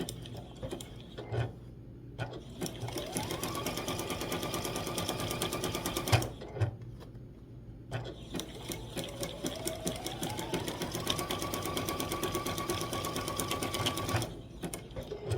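A sewing machine runs a zigzag stitch to appliqué a snowman quilt block. Two long, steady, rapid mechanical runs are separated by short pauses where the work is turned at the corners.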